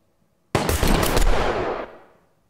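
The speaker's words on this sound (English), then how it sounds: "let's unmute some of these gunshots here, and you can hear what that sounds like" A sudden burst of rapid gunfire erupts after a brief silence, a dense rattling volley that rings out and decays over about a second and a half.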